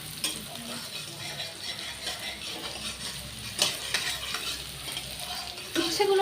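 Bitter gourd frying in a pan, with a steady sizzle and crackle that carries through the whole clip, plus occasional scraping stirs and a louder clatter near the end.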